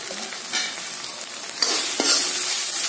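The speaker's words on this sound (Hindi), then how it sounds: "और अच्छे से चला देंगे इसको।" Onions frying over high heat with salt, coriander powder, masala and red chilli powder, stirred in a pan for veg Manchurian; a continuous close sizzle with several scraping strokes of the spoon, no voices.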